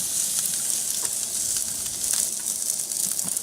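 A steak sears in a hot pan during a reverse sear, giving a loud, steady, close sizzle with faint crackles throughout and no voices.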